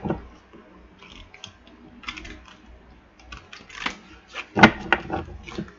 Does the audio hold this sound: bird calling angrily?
no